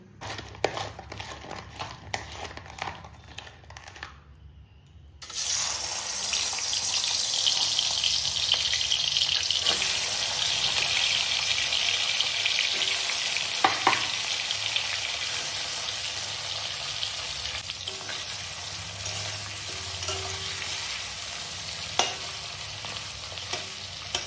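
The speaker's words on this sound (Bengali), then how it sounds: "তো চলো প্রথমে মাছগুলো ভেজে নেবো।" Prawns fry in hot oil in a wok, a loud continuous sizzle that bursts in after a few seconds of quieter clinks and rustling, with occasional knocks as they are turned.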